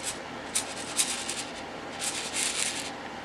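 Small metal reloading primers shaken back and forth in a ridged tray, a close, soft rattling and scratching with several brief louder shakes.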